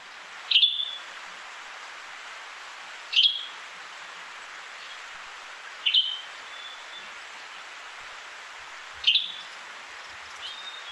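Four sharp, high bird calls spaced evenly about three seconds apart, each a brief bright chirp against quiet background hiss.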